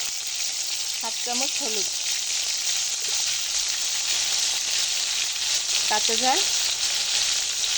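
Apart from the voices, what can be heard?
shrimp frying and sizzling in hot oil in a wok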